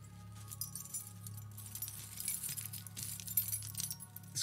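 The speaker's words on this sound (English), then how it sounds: "This keyring has different keys," A keyring loaded with different keys, trinkets and small artifacts jingles and clinks in bursts close by, soft metallic rattles rising and falling over a low steady hum, with no talk.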